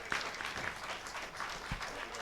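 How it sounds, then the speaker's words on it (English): Applause from a church congregation at a Sunday celebration service, a steady broadband patter of clapping that carries through the short stretch at moderate level. "Let's give her another round of applause"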